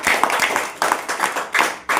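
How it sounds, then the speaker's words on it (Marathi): Schoolchildren in a Marathi classroom clap for their classmates, a close, loud patter of many hands in quick uneven bursts that swell and dip in rhythmic waves. "टाळ्या वाजवा सगळ्यांसाठी"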